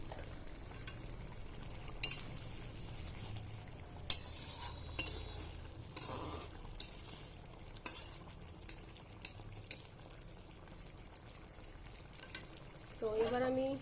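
Fish curry frying in a pan with occasional stirring, a soft steady sizzle broken by sharp metallic scrapes and clinks of a spoon against the pan, close by with no talk.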